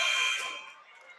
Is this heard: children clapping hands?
no